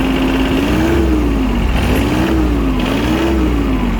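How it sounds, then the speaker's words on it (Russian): A used 24 hp Iseki SIAL243 tractor engine runs steadily and loud, its pitch rising and falling in slow cycles as it is revved to maximum and eased back several times. "Ну а пока слушаем, как работает двигатель."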